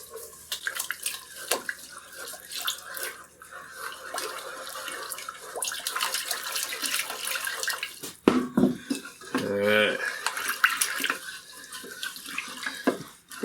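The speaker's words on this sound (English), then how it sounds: "And now we'll start adding in the milk." Milk poured into a cooking pan while making a pork and potato gratin: intermittent liquid splashing and trickling close by, with clinks of a pan and a louder gurgling pour partway through.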